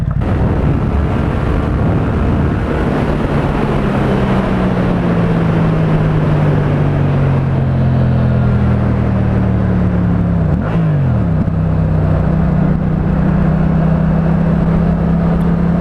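A Yamaha MT-07 motorcycle with an aftermarket exhaust pulls hard through third gear toward 130 km/h, its engine note climbing steadily as a loud, continuous roar under heavy wind rush, with a brief dip near the end before the drone resumes.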